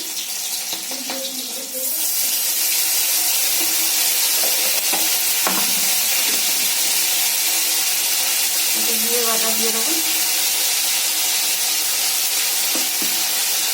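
Green chillies and mustard paste hit the pan for a mustard-poppy fish curry, giving a loud, continuous sizzle with intermittent stirring and clinks, and faint voices in the background.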